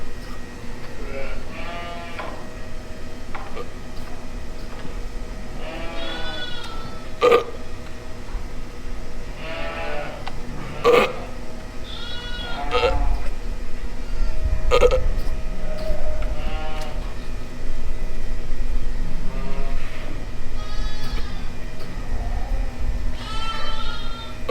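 Newborn lambs bleat repeatedly in a barn during winter lambing, their cries coming in clusters, some close and loud, others further off, over a steady low hum with faint rustling.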